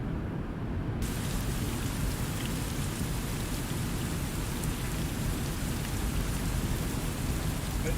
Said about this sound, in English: It's starting to rain, been a little stormy.